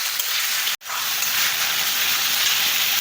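Chopped tomatoes frying in a pan, giving a steady, close hiss and sizzle that continues throughout with a single brief cut near the start.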